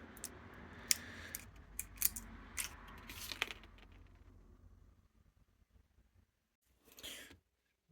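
Sealed plastic packaging of new injector nozzles for a 1962 Fordson Dexta tractor being torn open, sharp crinkles and snaps up close over the first few seconds, then quiet with one last rustle.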